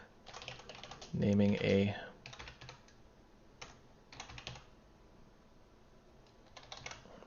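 Computer keyboard typing during a Flutter coding session: a run of quick, soft key clicks in scattered bursts, with a brief spoken phrase near the start.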